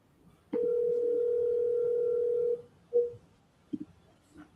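A phone line rings out while calling a seller: one steady two-second ringback tone over faint room noise, followed by small clicks and muffled bumps.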